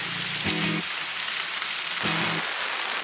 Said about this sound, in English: raining. Cats and dogs and cows and everything, but I like the rain.